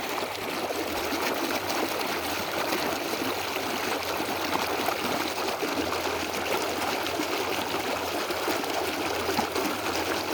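Water gushes from a burst pipe, a loud constant rushing hiss that holds steady and unbroken throughout, close by and with no voices.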